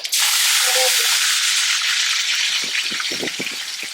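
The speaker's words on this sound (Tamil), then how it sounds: "எண்ணெய் காஞ்ச உடனே கடுகு போட்டாச்சு" Mustard seeds dropped into hot oil for an eggplant dish, a loud, close sizzling hiss with scattered sharp pops and crackles growing more frequent toward the end.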